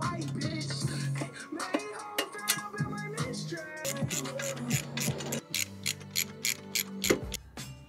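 Ratchet tightening bolts while mounting a turbo housing on a 2JZ-powered 240SX: rapid, close clicking of the pawl in repeated quick strokes, loud and continuous, with no talking.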